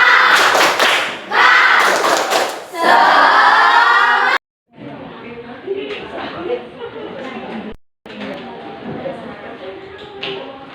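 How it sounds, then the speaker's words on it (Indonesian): Classroom students doing a rhythmic spirit clap, loud bursts of clapping and voices up front, then quieter chatter and thumps, with speech mixed in. "Tepuk semangat."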